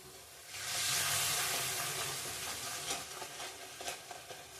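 Ginger-green chilli paste with cumin, coriander and chilli powders frying in oil for palak paneer, a broad sizzle that swells early and then settles into a steady hiss with faint crackles and occasional light clinks, no voices.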